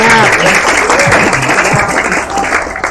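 An audience at a mosque gathering claps loudly and continuously, a close wash of applause with voices murmuring and calling out over it.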